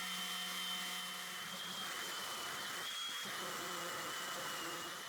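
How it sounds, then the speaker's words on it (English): A power sander runs steadily, smoothing a wooden plant stand built from 2x4s, giving a continuous whirring, buzzing hum at moderate volume with a thin high whine on top. "Sand everything smooth."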